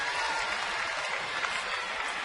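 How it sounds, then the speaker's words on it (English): Baseball crowd at a Braves game applauding steadily, a dense continuous wash of clapping from many fans standing in a stadium, with no talk over it. "Braves fans are standing and clapping"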